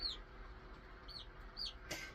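Baby chicks peep indoors in a warm brooder, giving a few high, thin chirps spaced apart over a soft steady background hum.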